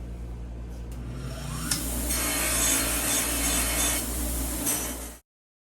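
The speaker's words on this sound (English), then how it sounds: "now we got to clean these up on the wire wheel" Knife blades are pressed against a spinning wire wheel, a steady harsh scraping hiss that lasts several seconds over a low motor hum, then cuts off abruptly.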